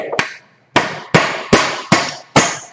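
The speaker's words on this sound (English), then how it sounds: "You got a nail gun, this works great. I swapped to a cordless Hitachi." A cordless Hitachi nail gun fires into lumber with six sharp, loud cracking shots, the first two close together and the rest in an even, rapid rhythm, each followed by a short ringing decay.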